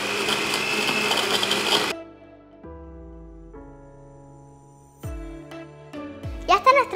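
A blender mixing a strawberry milkshake gives a broadband whirring burst for about two seconds, then quiet kitchen clatter with faint tonal hum; the mixing noise is loud and close.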